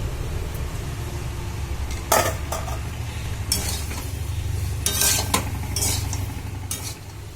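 Fried potatoes being stirred with spices in a pan for a potato and soybean curry, with a steady low sizzle beneath intermittent scraping and clinking strokes of a utensil against the pan, spaced irregularly over several seconds.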